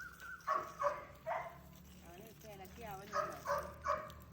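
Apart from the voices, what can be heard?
dog whimpering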